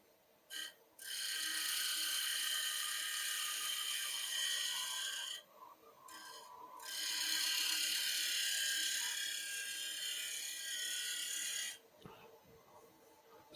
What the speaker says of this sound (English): Spindle gouge, cleaning that up.